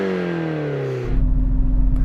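A Nissan JDM car's engine note falls away as the revs drop, then settles into a low, rumbling idle, loud and close with no voices over it.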